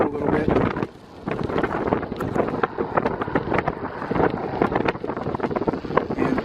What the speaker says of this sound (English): The wind is gusty, it's irregular